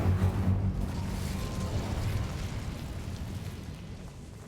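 Incendio fire spell cast in Hogwarts Legacy: a low, rumbling burst of flame that starts strong and slowly fades over several seconds, with no one speaking.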